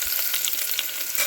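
Steady, crackling sizzle of chopped onions frying in a hot pan, close up, with no voices.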